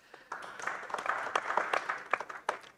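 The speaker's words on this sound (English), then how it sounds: "I think that deserves a clap." An audience at a literary festival session breaks into applause, a scattered burst of clapping that swells and stays lively for a few seconds.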